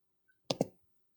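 A computer mouse gives two quick, crisp clicks in close succession, near and isolated against a quiet background.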